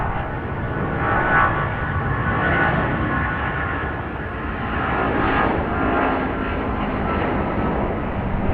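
A Boeing 777 airliner departs Raleigh-Durham International toward London Heathrow, its engines producing a loud, steady broadband roar that holds throughout with no voices.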